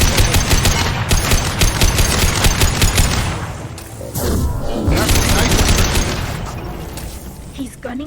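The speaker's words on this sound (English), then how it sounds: "He's gunning down his own crew to keep control?" Rapid automatic gunfire in the Mass Effect video game as a ship's captain guns down his own crew, loud dense bursts with rattling repetitions, a brief lull and booms, and game voices underneath.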